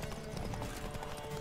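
Rapid clip-clop of horse hooves at a steady gallop in The Witcher 3: Wild Hunt, loud and close over a dense rumbling game soundscape, with a faint whinny mixed in.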